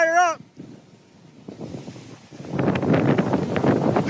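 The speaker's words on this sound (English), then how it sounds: "getting hammered by 80 mile per hour plus gusts at times" Hurricane-force wind gusts of 80 mph and more roar during a storm surge in Punta Gorda, Florida, with knee-deep floodwater; a brief tonal whine comes first, then after a near-silent gap the turbulent wind noise builds into a loud, sustained roar.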